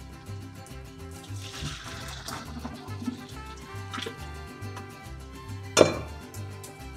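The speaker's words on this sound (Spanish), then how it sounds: "Aquí ya vamos a escurrir el espagueti" Boiled spaghetti drained of its cooking water, with a steady splashing pour and trickle into a sink and one louder gush near the end.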